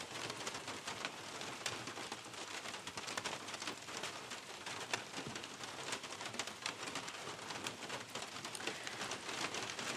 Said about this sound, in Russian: По стеклу барабанил дождь.